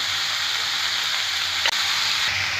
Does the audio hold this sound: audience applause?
no